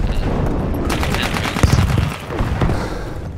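Gunfire rattles in Battlefield 1 multiplayer gameplay, with rapid bursts of shots and a few heavier bangs over a dense, loud game soundscape.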